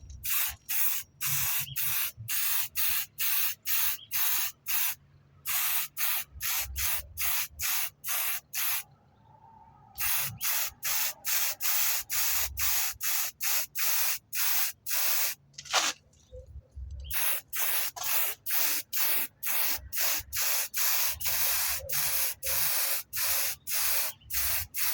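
Spray paint applied to BMW E30 325i underbody parts and side shafts in black, heard as many short, loud, hissing spray bursts in steady rhythm with brief pauses, close up with no talking.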